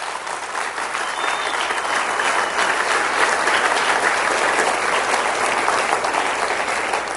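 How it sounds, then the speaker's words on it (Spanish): Congregation at a church service clapping loudly and steadily, a dense sustained wave of many hands from start to finish. "denle un aplauso al Rey bendito."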